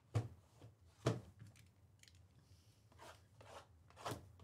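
Scissors snip open baseball card packs, with a few sharp cuts and crinkling wrapper sounds close by in a quiet room, and no talking.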